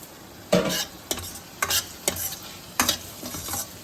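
Seema chinthakaya (cluster bean) curry frying in a pan until browned, with about six distinct stirring scrapes over a steady low sizzle, close and moderately loud, no talking.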